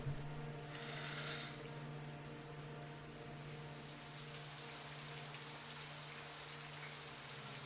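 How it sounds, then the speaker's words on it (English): Steady, soft rainfall in the horror video game Fatal Frame 3: an even hiss of drops continues for the whole stretch, with a faint low tonal hum underneath and a brief brighter burst of noise near the start. "It's also fucking raining all the time."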